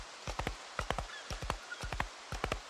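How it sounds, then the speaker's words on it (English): Galloping horse hooves in the game Project Zomboid, a quick repeating three-beat clatter of soft thuds moving steadily over a faint background hiss, with no talk. "Or full gallop, I suppose it's called with a horse, actually."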